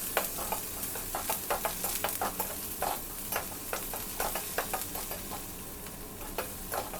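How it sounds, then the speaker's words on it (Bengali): Five cloves of chopped garlic and a large chopped onion fry in oil, a steady sizzle broken by frequent scraping stir strokes in an uneven rhythm, close and moderately quiet. "তেলের মধ্যে প্রথমেই ৫ কোয়া বড় রসুন কুচি করে ছেড়ে দিলাম। একটু ভেজে নিয়ে একটি বড় পেঁয়াজ কুচি ছেড়ে দিলাম।"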